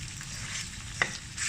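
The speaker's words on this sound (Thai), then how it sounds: "อันนี้จะทอดหรือผัดก็ไม่รู้นะ น้ำมันมีอยู่หน่อย ใส่หมูไปสักครึ่งกระทะเลย" Pork sizzling in a little hot oil, half a panful, a steady crackling hiss with a brief clatter of a utensil in the pan.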